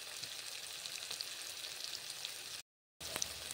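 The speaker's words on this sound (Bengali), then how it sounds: "আগে ফুলকপিটা ভাজি করে নেব" Cauliflower sizzling and frying in oil in a pan, a steady hiss with small crackles, briefly cut silent near the end before resuming.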